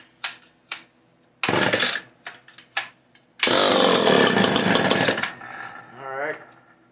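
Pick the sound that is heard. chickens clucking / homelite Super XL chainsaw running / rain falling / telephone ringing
homelite Super XL chainsaw running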